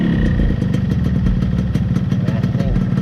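A close Yamaha Concorde motorcycle engine idles with a loud, throbbing low rumble and rapid pulsing beats, steady throughout, with a voice faintly underneath.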